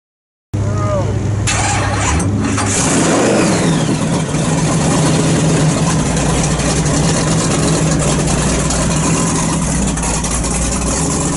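A classic car engine at a car show rumbles loudly at close range, running and revving with a rough, throaty roar that holds steady throughout.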